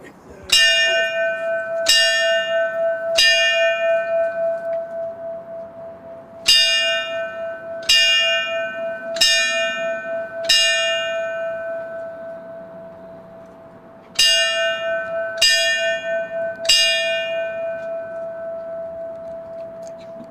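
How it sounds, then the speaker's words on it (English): Fire bells rung at a 9-11 memorial ceremony, clear ringing strikes in groups of three with long ringing decay between, repeated across the clip with short pauses, loud and close. "And now, the fire bells."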